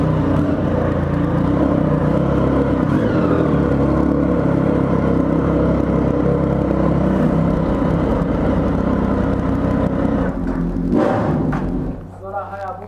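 A Triumph Speed Triple 1050 motorcycle engine runs with a steady, rumbling drone close by, people talking over it, before it drops off near the end.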